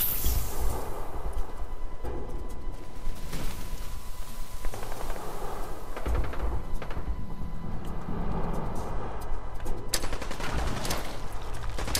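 Fallout 4 gunfire rattles continuously, rapid automatic shots packed into a steady, loud barrage that barely lets up, with a few sharper bursts standing out near the middle and end.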